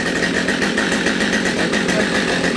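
A Husqvarna chainsaw engine running steadily at close range, a loud continuous buzzing drone with no talk over it.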